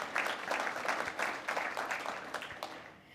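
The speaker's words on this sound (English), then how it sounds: "So a big round of applause for them as well." A cultural diversity awards audience claps for production sponsors, a fairly faint, steady patter of many hands that thins toward the end.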